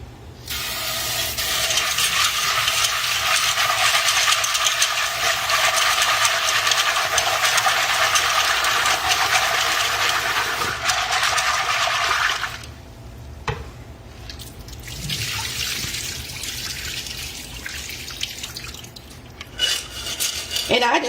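Dried butter beans are washed in water, a loud sustained rushing and swishing of water and beans, then a quieter stretch of rubbing and sloshing with a few scattered knocks.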